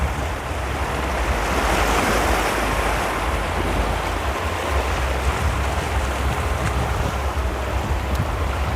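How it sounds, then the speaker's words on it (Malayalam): Ocean surf washes continuously onto the beach at Anjuna Beach, Goa, on an evening shore: a steady, loud, broad roar of breaking waves with some wind buffeting the microphone, and no one speaking. "അത്ര ഭംഗിയാണ് ഇവിടുത്തെ തിരമാലകൾക്ക്."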